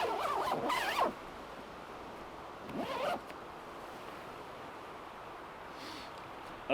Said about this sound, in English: it just zips around